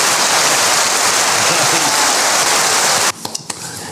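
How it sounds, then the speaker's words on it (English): Dense, loud applause for Jayden Daniels, a wash of clapping from many hands that cuts off sharply about three seconds in, leaving a few scattered claps and faint noise. "Clap it up for Jaden Daniels."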